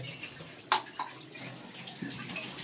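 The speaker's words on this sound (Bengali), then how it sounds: "এখন বাসন ধুচ্ছে" Dishes are washed under running tap water, a soft continuous trickle with a sharp clink of crockery early on and a few fainter knocks later, no one speaking.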